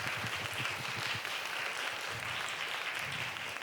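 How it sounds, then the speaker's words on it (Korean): At an awards ceremony for a youth video contest, an audience claps in a faint, steady wash of applause heard from a distance, continuous for the whole stretch. "여러분 큰 박수 부탁드릴게요."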